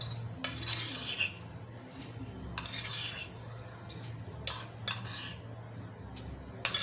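A metal spoon scrapes and clinks against a bowl while mixing a potato vada filling with coriander and chilli, giving soft intermittent stirring scrapes and occasional sharp clinks close by, with no talking.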